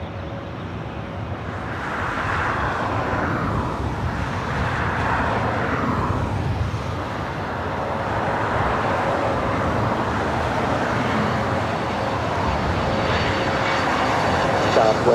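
A Bombardier Challenger 605 business jet arrives on the north side runway 24 right at LAX, its engine roar building steadily from a distance and holding loud, with someone talking over it early on.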